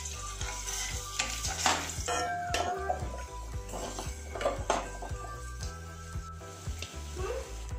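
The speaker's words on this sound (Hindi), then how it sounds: "और सबसे पहले ऑयल में डालना है आपको आलू, सबसे ज़्यादा देर लगेगी" Potatoes frying in hot oil in a home kitchen, a steady close sizzle with scattered utensil clinks and scraping, under a low droning hum with some faint background voices.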